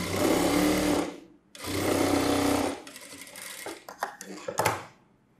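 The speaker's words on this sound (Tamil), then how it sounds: "இந்த பக்கமும் ரெண்டு பக்கமும் ஸ்லீவும் தைச்சிடலாம்." A sewing machine stitches the sleeves of a blouse in two loud, steady runs, stopping briefly between them, then gives way to softer handling clicks and rustles near the close.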